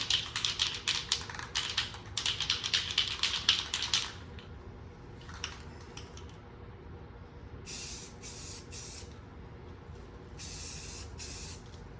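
Aerosol spray coating hissing onto a 1996 Ford F250 truck for rust protection, in several close bursts of a few seconds each, with quieter gaps between passes.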